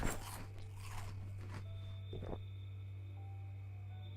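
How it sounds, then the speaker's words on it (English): Crisps being eaten in the survival video game Project Zomboid: a run of crunchy bites over the first two seconds and one more near the middle, set over a steady low game hum. "let's just eat a thing of crisps"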